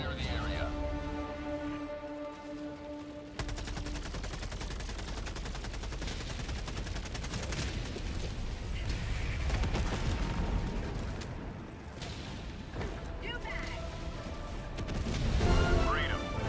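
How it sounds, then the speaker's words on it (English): Orbital barrage explosions in a shooter video game, a sustained rumbling series of heavy booms and crackling blasts mixed with gunfire, continuing for many seconds under occasional talk. "Firing orbital barrage."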